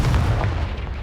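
A Confringo fire spell blast in Hogwarts Legacy, a loud, booming burst with a heavy low rumble that fills about a second, alone with no talk.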